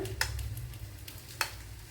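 Brinjal slices coated in batter fry in oil with a continuous sizzle, broken by two sharp clicks or taps, likely a utensil against the pan.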